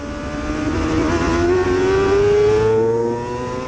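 A race motorcycle with a quick shifter accelerates hard, its engine note climbing in a steady rising whine that carries through upshifts without a break. The sound is loud and close, with no talk over it.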